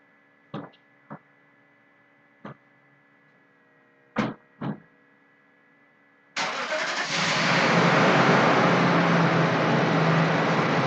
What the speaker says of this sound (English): Her truck's loud.